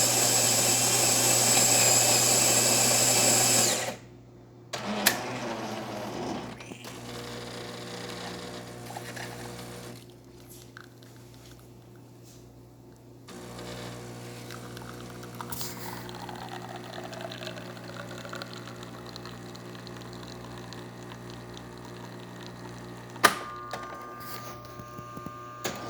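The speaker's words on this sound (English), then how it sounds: "Today we're testing this Jura Empresa F7. And let's go ahead and make a test shot." Jura Impressa F7 espresso machine making a test shot: a loud grinding whir for several seconds, a pause, then a steady pump hum with brewing trickles, a few clicks and clunks.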